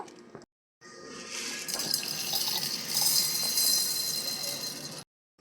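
A short pour of water into a mixer grinder jar holding roasted cumin and coriander, a close, steady splashing trickle lasting about four seconds between brief silences.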